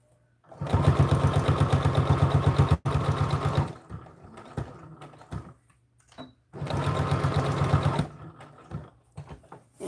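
A sewing machine stitches an American Girl doll dress in two steady bursts of fast, rhythmic whirring and clatter, close up, with short handling pauses between runs.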